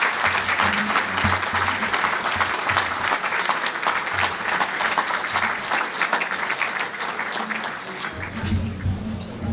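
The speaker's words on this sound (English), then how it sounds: "How about another round of applause for the sheriff?" A crowd applauds the Cook County sheriff with sustained, loud clapping that holds steady for several seconds, then begins to thin as a voice starts speaking near the end.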